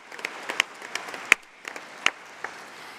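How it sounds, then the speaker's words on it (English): A conference hall audience at the Labour Party Conference gives scattered, sparse claps, a few sharper hand claps standing out over a thin background of crowd noise. "Can we have a special round of applause, please, for Sean and the scrutineers and the tellers and the ballot staff, please?"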